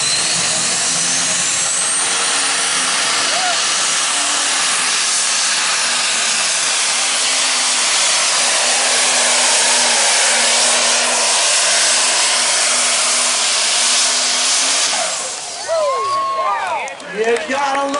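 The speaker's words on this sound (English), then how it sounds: "You gotta love those great big turbos in there singing at you." Big turbos whining loudly on a pro stock diesel pulling tractor at an NTPA power pull, a sustained high hissing roar that holds steady then breaks into shifting whines near the end.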